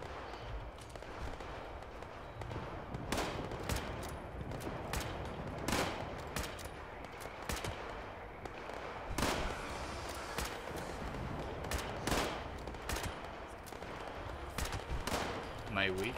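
Repeated gunshots in Fallout 76, sharp cracks fired in an irregular rhythm across the whole stretch, moderately loud over a dense background din of distant fire and effects.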